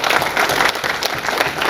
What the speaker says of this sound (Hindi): इस आदमी के लिए जोरदार ताली होना चाहिए।